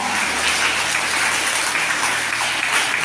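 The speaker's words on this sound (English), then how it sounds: "Let us give a round of applause to dear Sister Lina" Steady, dense applause from an assembled school audience at a farewell for Sister Lina, principal of St. John Bosco Girls' school in Sohra, a continuous rain-like patter of many hands held at an even, fairly loud level throughout.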